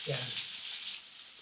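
Potatoes frying in oil with a pinch of sugar for mutton kacchi biryani, a brief bright hiss of sizzling close up, steady and fairly quiet throughout.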